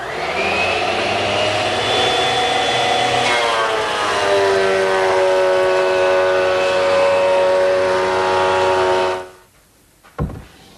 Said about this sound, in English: now I'll take it to my surface planer and true it up